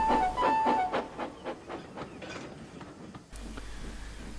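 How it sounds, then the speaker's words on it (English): A small steam engine rumbles past pulling a train, with rhythmic clanking and chuffing beats and a brief whistle-like tone at the start, moving at a moderate pace and fading into a steady background rumble. "he rumbled past with his own train"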